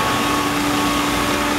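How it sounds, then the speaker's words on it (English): A LeBlond 4025NK sliding bed gap lathe runs at 250 RPM, a steady, loud, broadband mechanical hum with a faint constant tone and no talking. "So we're at the LeBlond at 250 RPM."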